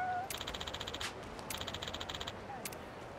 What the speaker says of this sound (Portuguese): Ah, o gatinho.